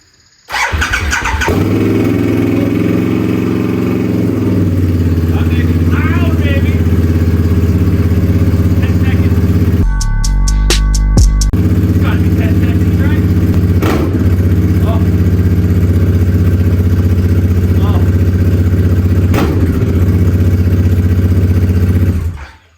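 A loud motorcycle engine with an unbaffled TBR exhaust fires up and runs continuously with a harsh, open exhaust roar, briefly cutting out midway before restarting and idling on.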